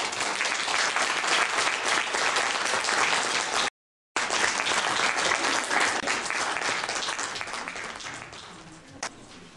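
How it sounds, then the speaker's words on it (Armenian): Warm audience applause at a children's New Year festival in a Dilijan kindergarten, a dense, steady clapping of a full hall that breaks off briefly, resumes and slowly tapers near the end. "Իսկ հիմա ձեր ջերմ ծափողություններով"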